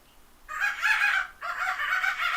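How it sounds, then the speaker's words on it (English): Two long, harsh bird calls from crows outdoors, each lasting about a second, come one after another at moderate distance with no talking over them. "There's crows out here."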